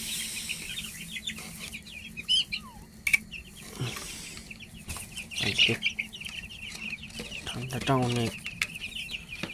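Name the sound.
chickens and rooster clucking in the rooster house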